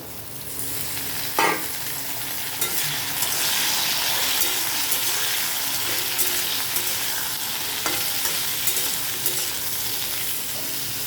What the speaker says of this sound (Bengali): এবার আমি এর মধ্যে কেটে রাখা ঝিঙেগুলো দিয়ে দেবো